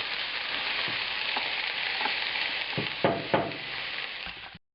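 Diced shallot, a bay leaf and garlic fry in a pan with a steady close sizzle, broken by a few stirring scrapes, before cutting off abruptly.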